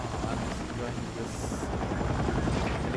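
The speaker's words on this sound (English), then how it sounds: "There is a helicopter that I'm fooling around with." Helicopter in the video game Battlefield 6, a steady loud rotor and engine drone filling the whole stretch with a faint high whine partway, while a voice talks over it.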